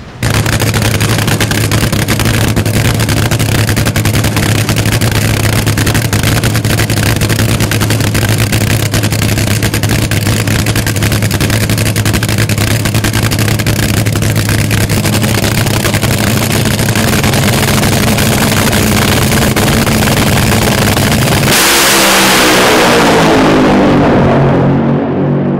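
A Top Fuel dragster engine roars at close range during nitro spring training, a loud sustained rumble for over twenty seconds that ends in a sudden harsh blast and fades.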